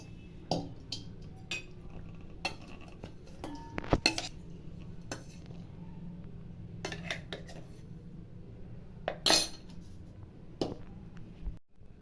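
Clinks and taps of metal utensils against a pot as rusk powder is transferred into it, scattered sharp knocks with quiet pauses between, close by.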